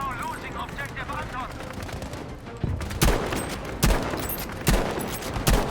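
Gunfire in Battlefield V: a dense clatter of shots under chatter at first, then several heavy, distinct shots at roughly even intervals standing out over the ongoing battle noise.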